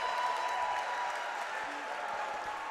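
Steady, somewhat distant applause and cheering from a high school basketball crowd in a gym, a continuous wash of clapping throughout.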